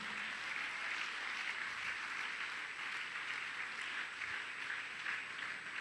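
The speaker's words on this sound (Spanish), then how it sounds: "Dele un fuerte aplauso al Señor." A church congregation applauds during a Spanish-language sermon, a soft, steady wash of many hands clapping heard from a distance, fairly quiet and sustained without a clear beginning or end.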